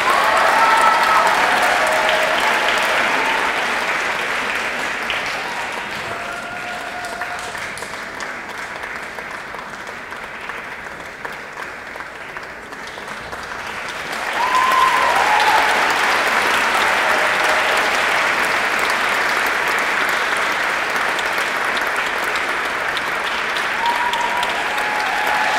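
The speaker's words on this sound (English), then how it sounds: "And keep that applause going." Sustained applause from a large audience at a poetry event as a poet is welcomed to the stage, steady and loud, dipping slightly in the middle before swelling again with a few cheers.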